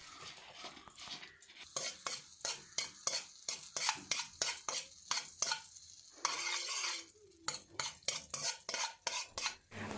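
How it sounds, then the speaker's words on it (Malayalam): Butter melts in a heated pan while a utensil stirs and scrapes it in quick, rhythmic strokes, close and fairly loud, with a faint sizzle underneath and no talking. "ആ ചട്ടി ചൂടായതിന് ശേഷം നമുക്ക് കുറച്ച് ബട്ടർ കൂടെ ചേർത്ത് കൊടുക്കാം"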